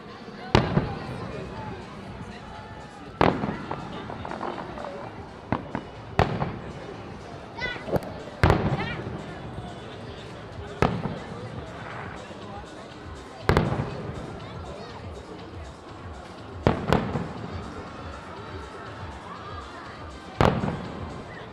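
Fireworks bursting over the Carowinds amusement park in Charlotte, NC at its 50th anniversary celebration, with sharp booming explosions every couple of seconds over crowd murmur and someone talking.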